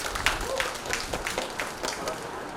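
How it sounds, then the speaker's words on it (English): Students at a medical workshop quiz give the players a round of applause, a light, fairly distant patter of scattered claps that carries on for a few seconds beneath low crowd murmur. "Please give them a round of applause."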